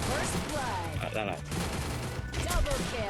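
Rapid bursts of video game gunfire crackle in a fast, close fusillade, mixed with a voice talking over the shots.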